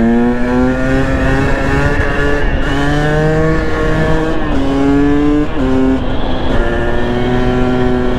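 A 2020 KTM 300 EXC TPI two-stroke motorcycle engine revs loud and close, its pitch climbing and dropping through several throttle blips with a buzzy, raspy tone.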